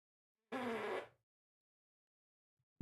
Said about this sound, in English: That was a fart.